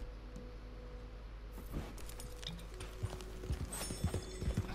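Horse hooves clip-clopping in the Red Dead Redemption 2 video game, irregular thuds growing busier toward the end, fairly faint under low background sound.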